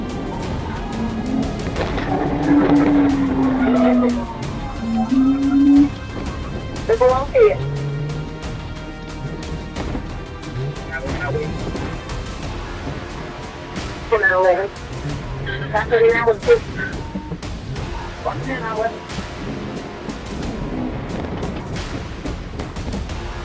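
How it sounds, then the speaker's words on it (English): A car spinning out after a police PIT maneuver in a high-speed chase, with tires squealing in long rising and falling shrieks and engine noise, partly under a narrating voice. "prompting police to execute a pit maneuver that caused it to spin out"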